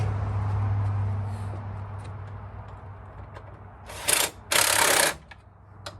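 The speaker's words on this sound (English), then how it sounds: "Now we need a wrench." A Makita power wrench tightens a fuel filter on a 2005 Freightliner Sprinter, giving two short, loud buzzing bursts near the end after a quiet stretch of low hum.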